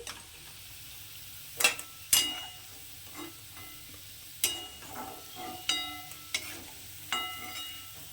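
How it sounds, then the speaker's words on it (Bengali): Fried potatoes are lifted out of hot oil in a pan: a faint, low sizzle runs underneath while a spatula gives about eight sharp, irregular clinks and scrapes against the pan. "দেখুন আলুগুলো ভাজা হয়ে গেছে এখন আমি আলুগুলোকে তুলে নিচ্ছি"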